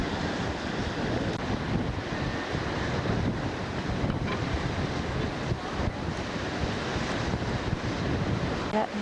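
Strong wind buffets the microphone on a pier by the ocean in Orange County, California, a steady broadband roar with surf beneath it and no speech, loud and continuous throughout.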